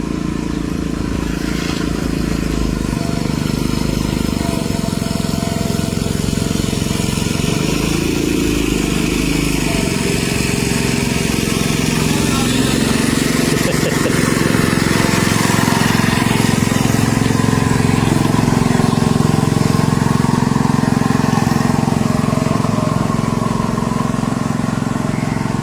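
A steady, loud motor drone of a large line boat running on a river in Kerala, continuous and close throughout with no talk over it.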